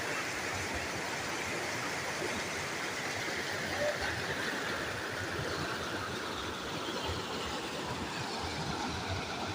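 A loud, steady roar of rushing floodwater churning without pause, like a swollen torrent close by.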